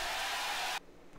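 A crowd noise fill layer in a festival trap track: a dense, steady roar of broadband noise holds loud for under a second, then cuts off abruptly, leaving only a faint low residue.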